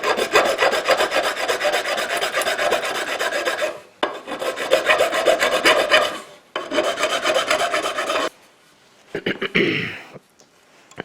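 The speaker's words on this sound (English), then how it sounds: "we just filed them down just a little bit, get them closer." A file rasps over railroad spikes in long, loud back-and-forth strokes, three sustained bursts separated by short pauses, followed by a few softer scrapes.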